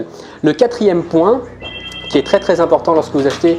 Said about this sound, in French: Désolé pour le téléphone qui sonne, ça va s'arrêter